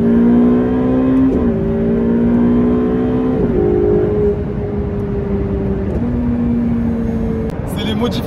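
Ferrari 488 Pista engine pulling hard through successive upshifts, a loud droning tone that climbs, drops briefly at each gear change and climbs again. Someone talks over it.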